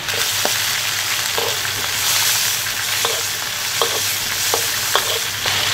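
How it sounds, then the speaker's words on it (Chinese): Shrimp go into a hot wok of lard and oil where fish eyes are already frying, giving a loud, steady sizzle with scattered clicks and stirring scrapes throughout. "煎得差不多，我们把虾也放进去啊。"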